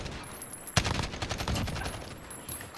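Gunfire from a Spetsnaz weapon in Call of Duty Modern Warfare: a sharp shot followed by a rapid string of bursts that fade into softer, scattered pops, fairly quiet overall.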